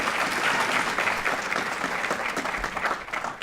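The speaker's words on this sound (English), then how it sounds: "Please join me in giving a round of applause to thank the Oak Ridge High School Orchestra" A round of applause for the Oak Ridge High School Orchestra at a district Black History event, a full hall of hands clapping in a thick, continuous wash that starts strong and gradually thins toward the end.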